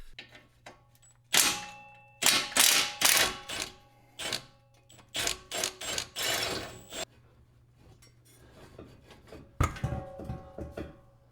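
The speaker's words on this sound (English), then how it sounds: "So I'm gonna unbolt that, and then the steering shaft should be off." Metal clicks, ratcheting bursts and scraping clatter from a wrench loosening a nut on a Honda Civic steering shaft, a series of irregular close bursts separated by short pauses.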